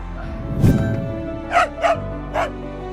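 A dog barks and yips in short bursts at its soldier owner home from an eight-month deployment, a few close, excited barks with whimpering tones over steady background hum.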